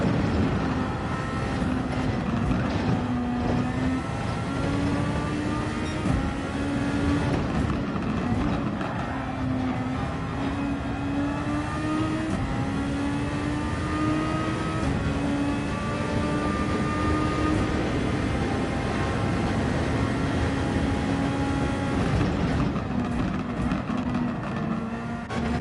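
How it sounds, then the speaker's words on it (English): Race car engines in a Formula X sim race, a dense, continuous drone with rising and falling engine tones, loud and steady throughout, with no talking. "I will let you guys listen to the engine sounds as Bunnies tries to catch Cthulhu."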